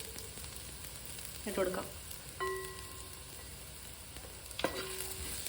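Onions sauté in a pan with coriander powder added for a beef roast, giving a soft continuous sizzle. Stirring scrapes come in a few distinct bursts, and a person speaks briefly over the cooking.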